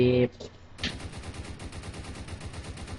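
Rapid automatic gunfire from the Roblox Prison Life game rattles in a steady fast stream after a brief tone and a single shot, fairly faint and continuous for several seconds.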